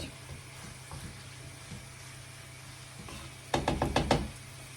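Grated beetroot and carrot with onion fry in a pan with a soft, steady sizzle, broken by a few light scrapes and a quick run of spoon knocks against the pan near the end.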